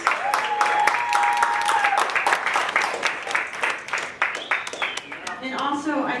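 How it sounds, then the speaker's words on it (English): A round of audience applause at a City Year fundraiser, crisp individual claps ringing out close by, with people talking and cheering over the clapping. "and if everybody could just give them a round of applause"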